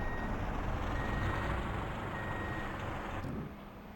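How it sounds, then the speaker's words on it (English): A loader vehicle backs up in Truck and Logistics Simulator, its reversing alarm beeping in a steady repeating pattern over a low diesel engine rumble that fades near the end. "Now move back the loader vehicle."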